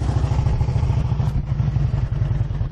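Close and loud, a 2005 Harley-Davidson Ultra Classic Electra Glide with stage one fuel mapping and an upgraded exhaust runs with a throbbing, rhythmic lumpy idle that pulses steadily throughout.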